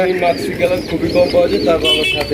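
A male and a female pigeon coo in low, soft repeated calls nearby, with a person talking over them throughout.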